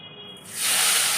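Hot oil hisses and sizzles in a pan, ready for frying prawns for a vegetable and prawn curry; the steady, close hiss starts softer and swells louder about halfway through.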